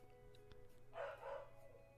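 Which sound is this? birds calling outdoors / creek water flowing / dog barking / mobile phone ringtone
dog barking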